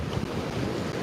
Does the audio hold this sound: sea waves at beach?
yes